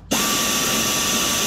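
A power tool works on the header bolts of a Pontiac GTO with a 5.7L LS1 engine, starting abruptly and holding one loud, steady whirring drone with no pauses.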